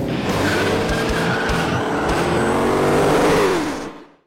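A supercharged 6.2-liter Hemi Dodge Challenger Hellcat muscle car squeals its tires hard over a roaring engine, loud and sustained before cutting off abruptly near the end.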